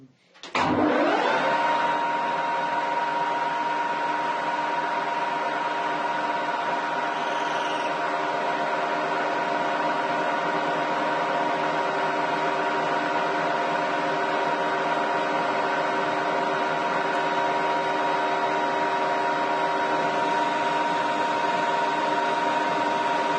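A Harrison M300 lathe starts up and runs steadily while turning 17 mm metal stock down to 12 mm, giving a continuous mechanical whine with a smooth, even motor hum close by.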